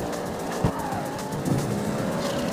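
A car drifts in the CarX Street racing game, its engine droning steadily with a squealing, skidding tire whine running through the whole stretch. No one talks.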